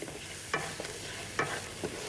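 Kielbasa sausage sizzles in olive oil in a skillet with a soft, steady frying hiss, broken by two or three scraping stirs of a utensil against the pan.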